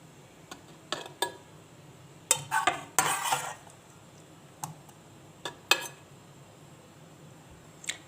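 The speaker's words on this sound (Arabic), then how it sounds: "هبدا بقى انقل الكبده كده من هنا للطاجن بالصوص بتاعها" Spoon and metal clinks and scrapes against cookware as liver in sauce is moved into a clay tagine, a scattered series of sharp close knocks with quiet gaps between them.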